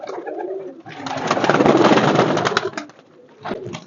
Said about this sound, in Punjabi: ਇਹ ਜਿਹੜੇ ਕਬੂਤਰ ਨੇ ਤੁਸੀਂ ਵੇਖਣ ਦੇ ਹੋ